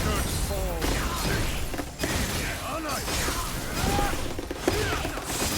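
Gill's Icy Blast attack in Street Fighter V: Champion Edition, heard as a busy run of shattering, crashing hits and whooshing effects that repeat in quick succession.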